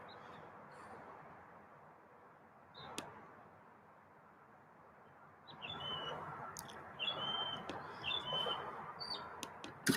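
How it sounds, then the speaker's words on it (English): A mockingbird sings outdoors, its varied chirps and whistled phrases fairly faint and distant over a steady ambient hiss, growing busier and louder in the second half, with no one talking. "from the sound of the singing, I think that's a mockingbird"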